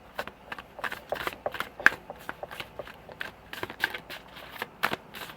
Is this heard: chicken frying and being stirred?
no